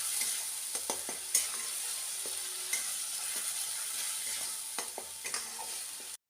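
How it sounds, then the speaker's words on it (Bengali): Spice masala for a mutton fat and liver curry frying in hot oil, a steady close sizzle with intermittent scraping and clinks of a stirring spoon against the pan. "তেলটা গরম হয়ে গেছে দিয়ে দিচ্ছি মশলাটা মশলাটা দিয়ে খুব ভালো করে এটাকে কষিয়ে দেবো"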